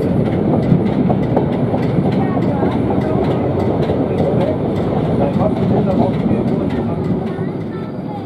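A Danish heritage train rolls steadily along the rails toward Ringsted with a rhythmic clickety-clack and a low rumble, close and loud throughout.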